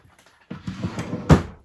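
A drawer of a four-drawer chest of drawers slides open in a bedroom, with a muffled wooden rumble ending in a firm knock, close and brief.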